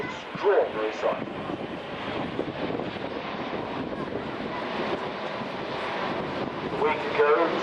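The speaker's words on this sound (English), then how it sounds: "Now how about that for a slow flyby?" An Airbus A380 airliner makes a slow flyby at an air show, its engines a distant, sustained low roar mixed with wind buffeting on the microphone, while a commentator talks over it.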